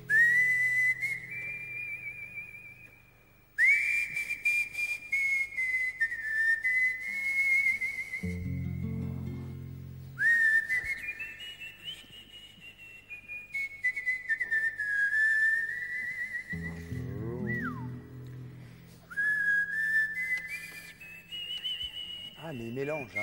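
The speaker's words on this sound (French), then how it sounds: "C'est-à-dire qu'il siffle et il joue aussi de la guitare." A man whistles a melody in bright, sustained phrases while strumming a guitar, with short breaks between phrases and low guitar chords underneath, on a French television show set.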